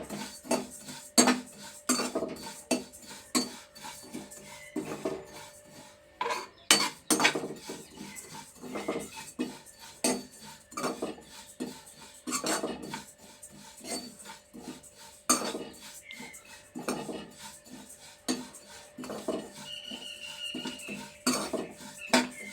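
Coriander, cumin, cloves and cinnamon dry-roasting in a pan, stirred with a metal spoon that scrapes and clinks against the pan in an irregular, close rhythm throughout, with no talk.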